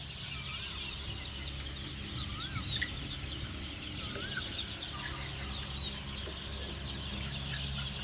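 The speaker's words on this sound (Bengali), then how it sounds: "এদিকেও আরও মুরগি আছে, ওই একই প্রজাতির কর্ক, লেগ হর্নের এক প্রজাতি কর্ক।" Leghorn roosters on a farm clucking in short, scattered calls at moderate distance over a steady low background hum, with no talking.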